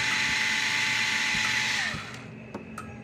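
A power screwdriver runs steadily while driving a screw into a Gallagher S200 solar fence charger, then winds down and stops, followed by a few faint clicks and taps.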